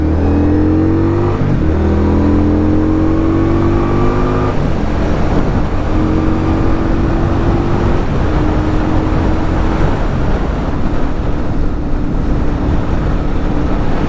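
A 2020 Indian Scout Bobber Twenty motorcycle accelerates onto the interstate, its loud engine note climbing through several gear changes under heavy wind rush, with no talk.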